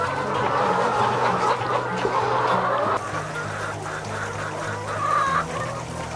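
Layer hens on a rooftop farm cluck continuously in a dense, busy chorus, with the calls overlapping at a steady moderate loudness and no talking over them.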